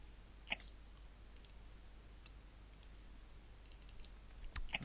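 Keystrokes on a computer keyboard as an agent enters client details into a form, heard as a few faint, sparse clicks at the start and end over a quiet room hum, with no talking.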